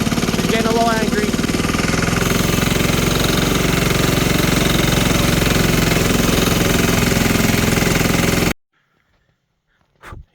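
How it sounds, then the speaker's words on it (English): A Ford CM224 tractor engine labours loud and close while cutting weeds in a yard, a dense rough knocking drone that runs steadily for about eight seconds before stopping abruptly. "And hopefully not kill the tractor, but you know, it's getting a little angry."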